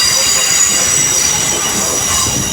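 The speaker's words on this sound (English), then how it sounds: "now coming in will be a terminating pair of 350s from Milton Keynes Central" Class 350 electric multiple units, a terminating pair from Milton Keynes Central, arriving at London Euston with their wheels squealing. The squeal is loud, steady and high-pitched, running over a rumble of rolling stock throughout, with no talk.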